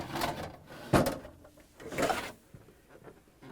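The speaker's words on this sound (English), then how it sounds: "Pull out the ice bin." The ice bin slides out of a Whirlpool refrigerator's freezer with plastic scraping and a couple of hollow knocks, close and fairly quiet, with no talk.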